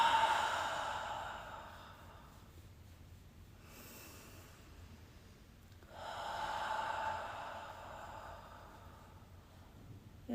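During face yoga, a deep breath is drawn in through the nose and let out: two long, soft airy swells of breath, close and unhurried, separated by a quiet pause.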